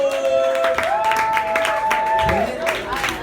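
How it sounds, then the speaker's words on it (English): A comedy club crowd claps and cheers at a live stand-up night, the sustained applause loud and dense, with whoops and a voice or two mixed in and a sung or held tone running through it. "Clap your hands, make some noise."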